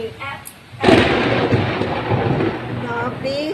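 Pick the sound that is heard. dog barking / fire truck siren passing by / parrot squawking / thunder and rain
thunder and rain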